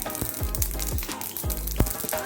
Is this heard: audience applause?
no